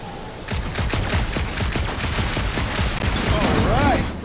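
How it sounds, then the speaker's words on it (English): Rapid gunfire in Guardians of the Galaxy aimed at a gunked-up reactor, a fast, loud volley of repeated shots running for several seconds, followed by a rising and falling whine near the end. "A couple of shots should bring it down."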